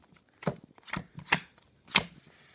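Playing cards dealt from a deck one at a time, four distinct snappy slaps at an uneven pace, close and clear in a quiet room.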